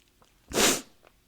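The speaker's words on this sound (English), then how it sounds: "let's get those sneezes" A single sharp sneeze, close and fairly loud, surrounded by near silence.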